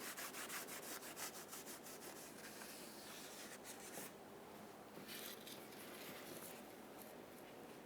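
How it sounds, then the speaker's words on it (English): Rag soaked in parts cleaner rubbed over the axle housing's mating surface on a 2004-2008 Ford F-150 rear end, a steady close scrubbing and wiping with rapid strokes at first, then slower continuous rubbing. "We'll use parts cleaner directly on a rag. Clean the entire mating surface."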